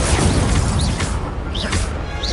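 Fire and blast spells from Hogwarts Legacy erupt in loud booms and whooshing bursts, several overlapping impacts packed closely together over a dense rumble, with no voice present.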